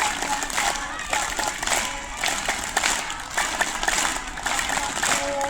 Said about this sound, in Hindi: राम के नाम पे ताली वादन प्रक्रिया मेरे साथ।